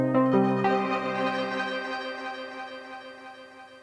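Plucked synth tone with dense glittery grains smeared into a long swelling delay wash at full mix, a bright attack dissolving into a sustained shimmering tail that fades alone.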